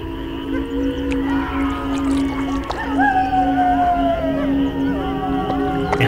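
Cartoon jackals howl in an eerie riverside forest at night, drawn-out wavering cries rising and falling over a steady low hum, one long howl sliding down in pitch, moderately loud and alone.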